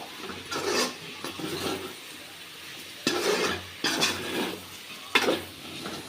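Potato fry with chilli powder being stirred in a pan: a spoon scrapes and tosses the pieces in several brisk bursts with short pauses, close and fairly loud, over a faint sizzle, with no talking.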